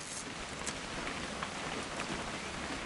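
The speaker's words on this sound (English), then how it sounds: "It's gonna rain the whole weekend," Steady rain falls in the video game What Remains of Edith Finch, a dense even hiss with scattered droplet patter and no voices, holding at a constant level throughout.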